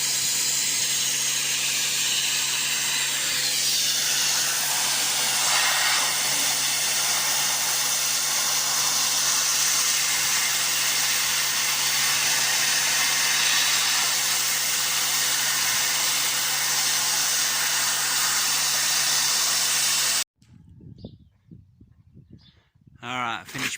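A power washer blasts the radiator of a Massey Ferguson Cerea 7274 combine as a loud continuous hissing roar for about twenty seconds, then cuts off abruptly, leaving quieter background noise.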